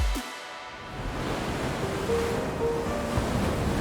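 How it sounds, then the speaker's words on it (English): Steady roar of surf washing onto a beach in El Nido, a continuous broadband wash with gentle swells and no voices. "the waves crashing by the shore"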